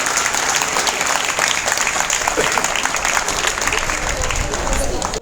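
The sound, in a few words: audience applause at an award ceremony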